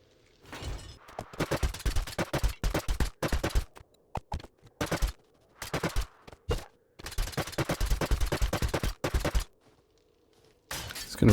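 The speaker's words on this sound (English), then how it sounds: "So let's grab the nail gun, let's get our crafting supplies" Rapid bursts of a nail gun firing in a survival video game as a player repairs a damaged base floor, clusters of sharp mechanical shots separated by short pauses.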